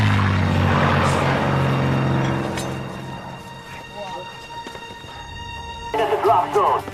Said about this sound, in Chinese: 飞机要来了！